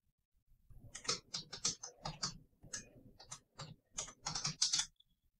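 SQL code is typed on a computer keyboard in quick, irregular bursts of light key clicks with short pauses, fairly faint and close, with no voices.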